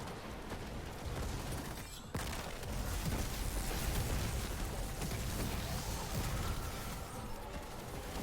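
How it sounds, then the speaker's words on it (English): In Destiny 2, a Warlock throws a grenade and then fires the Chaos Reach super at an overload enemy in a lost sector, producing a dense, continuous roar of blasts and crackling energy with no talk. "I'm gonna throw my grenade up there to stun the overload, and when I see it stunned, I'm just gonna pop my Chaos Reach on it."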